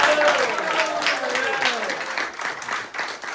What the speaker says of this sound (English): let's give him a huge round of applause anyway